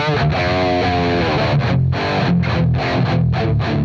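Heavily distorted electric guitar with high gain through a St. James 6L6 amp simulator, chugging chords and sustained notes, loud and saturated with no voice.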